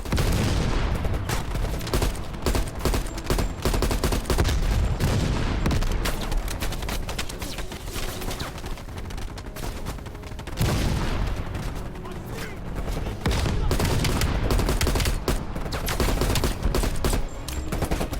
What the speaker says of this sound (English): AA guns, straight ahead.